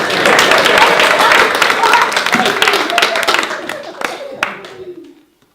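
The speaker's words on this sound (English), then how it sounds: "Round of applause." An audience at a comic Romeo and Juliet stage show claps and cheers loudly, the dense applause gradually thinning into scattered individual claps before falling silent.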